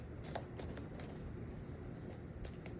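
Large deck of cards being shuffled by hand, a few quick riffling bursts of crisp flutter, faint and close with no talking.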